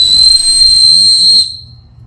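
A titanium Oknife OWhistle 2 whistle blown hard with high-speed air gives a loud, piercing, steady shrill tone lasting about a second and a half before cutting off sharply.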